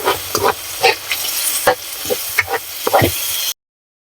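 A spoon stirs sautéed tomato with fish sauce in a hot pan for a Filipino oyster dish. Several scraping, clattering strokes ride over a soft sizzle, and the sound cuts off abruptly near the end.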